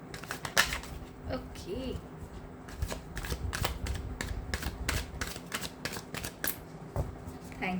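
Tarot cards shuffled by hand, a close, rapid series of crisp riffling flicks and taps running steadily throughout, with a brief spoken word near the end.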